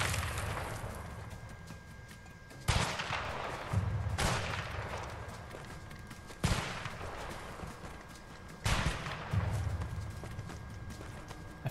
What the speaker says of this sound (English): It's like a 50 cal sniper.